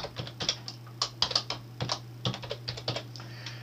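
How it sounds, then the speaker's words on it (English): Keystrokes of a password being typed on a computer keyboard, a quick irregular run of close, crisp clicks over a quiet low hum. "Okay, so it's now asking for my Google registered password, which I'm just gonna type in."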